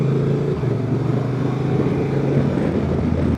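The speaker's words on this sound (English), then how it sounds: "The engine brake is pretty decent. It's slowing down the bike on this type of sections." Honda Transalp 750 motorcycle engine braking on an off-road section, a steady low engine drone with a rumbling uneven tone, continuous and fairly loud throughout.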